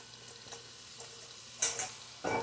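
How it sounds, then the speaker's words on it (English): Chopped bell pepper and onion sizzling in a pan for chili, a steady faint frying hiss broken by a few scraping stirs of a utensil that grow louder toward the end. "we're going to get our peppers and our onions started"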